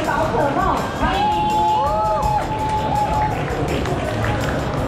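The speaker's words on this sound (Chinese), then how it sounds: "我们掌声欢迎黄副总" A crowd at a bank's booth at the 2020 Taipei finance expo cheers and claps in a lively, continuous roar, with voices calling out over the noise.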